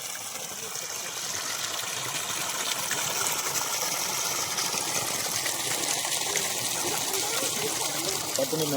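Water gushes steadily from a solar-powered borewell pump, a loud continuous splashing rush with someone talking over it.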